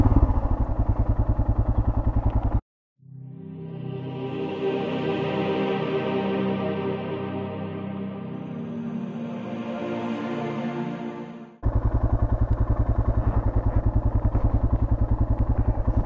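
A Royal Enfield Himalayan motorcycle engine runs steadily for about nine seconds, a close, even mid-pitched drone with a tonal hum on top. A louder, rapidly pulsing idle-like rumble comes before and after it.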